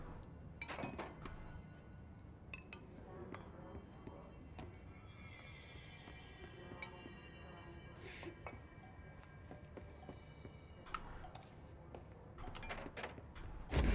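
Glass breaks and clinks in the Control video game, with scattered shards and thunks over a quiet, rumbling background and a heavier impact at the very end.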